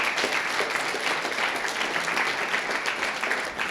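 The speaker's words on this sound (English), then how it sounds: "so you can give them some applause." A crowd at a coding bootcamp demo day gives a full, continuous round of applause, loud and close, with many hands clapping together in a dense, unbroken texture.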